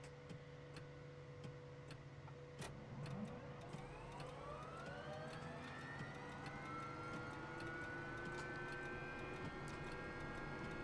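Mi-2 helicopter turbine spooling up in the MSFS 2024 flight simulator, a steady whine with tones that rise and climb over several seconds, accompanied by faint regular ticking and no speech.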